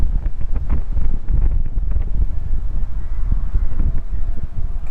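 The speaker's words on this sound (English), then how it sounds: "So windy." Strong gusty wind buffets the microphone outdoors with a steady low rumble and irregular blasts, loud and continuous throughout, with no speech.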